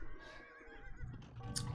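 A horse neighs in a strategy video game, a short whinny that rises and falls, fairly faint, with soft hoof-like clip-clops and game sounds behind it.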